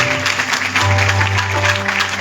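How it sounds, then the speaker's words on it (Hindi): Devotees clapping at a Shyam Baba kirtan, a loud, busy patter of hands over a sustained low musical drone from the sound system. "एक बार अपने दातार के लिए तालियां बजा दो।"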